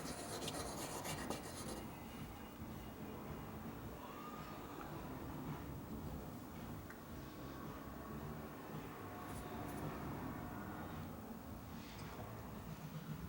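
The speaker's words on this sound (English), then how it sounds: "I'm gonna go do sideways sanding in that area." Steady abrasive rasping of sandpaper rubbed sideways along a Spyderco Manix 2 XL Cruwear knife blade to remove a lengthwise scratch, a continuous close scraping texture with no pauses.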